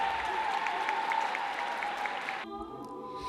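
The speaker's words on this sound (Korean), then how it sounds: "객석에서 우레와 같은 박수 소리가 터져나왔다" Thunderous applause from a concert-hall audience greets Korea's Gracias Choir at a choral competition final, a dense, sustained roar of clapping that cuts off abruptly near the end as a sustained musical tone takes over.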